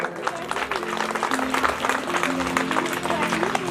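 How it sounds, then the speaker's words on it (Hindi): A devotional gathering applauds for the mothers and sisters present, crowd clapping with steady texture under a sustained tonal hum from music or amplification, with voices mingled in. "सभी माताओं बहनों के लिए एक बार जोरदार ताली बजाएं।"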